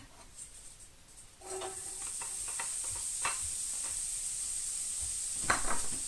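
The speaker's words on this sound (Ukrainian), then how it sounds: "Смажимо цибулю, разом морку" A steady sizzle of onions and carrots frying in a pan, with a high hiss and scattered crackles and pops, close up and without talk.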